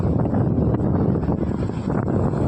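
Strong sea wind on the coast buffets the microphone in a dense, continuous low roar, steady throughout with no voices.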